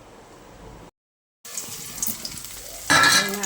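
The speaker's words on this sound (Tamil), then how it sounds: "ஜீரகத்தை போட்டு தாளிசம் பண்ணி இறக்கணும்" Cumin seeds crackle and sizzle in hot oil while tempering a moong dal sambar. A brief silence gives way to steady frying that grows suddenly louder and sharper near the end.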